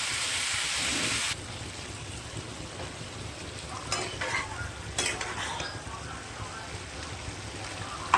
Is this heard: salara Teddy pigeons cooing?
no